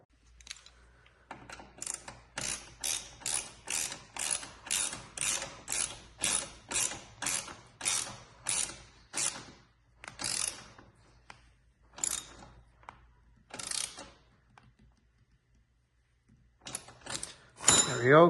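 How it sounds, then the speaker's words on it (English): Ratchet tightening the slip-on exhaust clamp on a 2022 Suzuki Hayabusa, sounding as a long run of regular clicking strokes, then a pause, a few more scattered strokes and a final burst, all close with no talk. "Let's go ahead and tighten this clamp down now."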